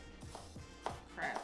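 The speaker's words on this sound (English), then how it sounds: "Now I'm getting ready to start cutting up the vegetables for our" A knife chops red pepper, jalapeno, green pepper and celery on a board for crab dip, giving a few irregular close blade strikes at a moderate level.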